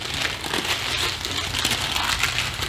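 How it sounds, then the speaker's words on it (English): Used wax paper from rolling potato candy being folded and crinkled by hand, a steady crackly rustle running the whole time at close range with no talking. "Here's your wax paper that you just used."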